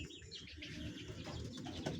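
Giribaz pigeons, a female and a male, cooing near the microphone in a loft, low throaty coos repeating steadily across the clip alongside faint chirps and a brief wing flutter.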